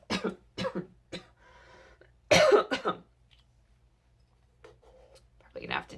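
Several sharp coughs from a person in a quiet room, a cluster of quick bursts early, a harder loud cough in the middle, and another near the end, with faint soft sounds between.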